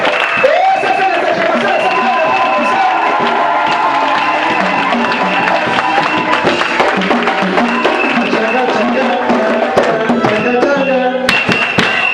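A church congregation in Moanda cheers and acclaims during a healing service, a dense, loud and continuous mix of crowd voices, shouts and whoops with musical tones running through it, sustained for the whole stretch.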